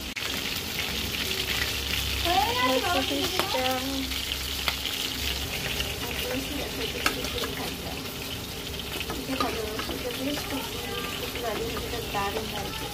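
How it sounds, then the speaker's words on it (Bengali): Fish sizzling as it fries in hot oil in a home kitchen, a steady crackling hiss with occasional clinks and stirring, while someone talks over it at moderate level. "এটাকে আবার এখানে দিয়ে নিয়েছি, তেলে করে দিলাম মাছটা।"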